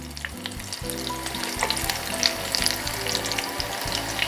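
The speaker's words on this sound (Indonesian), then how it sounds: "Saya menggunakan panci yang ukurannya pas untuk satu butir telur. Sambil diaduk-aduk, diputar-putar begini" An egg fries in a small pan over low heat, giving a steady, close sizzle with soft scraping from stirring and swirling throughout, and no talking.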